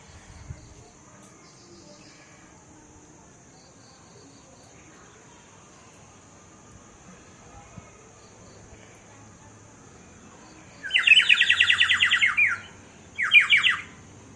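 A small clay mud whistle blown to imitate a real bird gives two bright, warbling trills close by, the first longer and the second short, after a long stretch of quiet room hiss.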